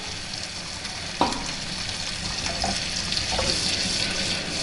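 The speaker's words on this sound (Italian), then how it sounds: "Aggiungiamo il vino bianco." White wine is poured into a hot pan of saltimbocca, giving a sudden sizzle and steady hissing bubble with a few soft clinks, close and continuous.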